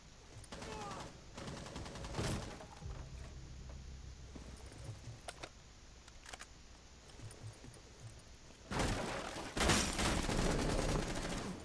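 Gunfire in Rainbow Six Siege, a team deathmatch on the Hereford Base map. Short sharp bursts crack early, then a denser, louder volley of shots follows near the end over a quiet background.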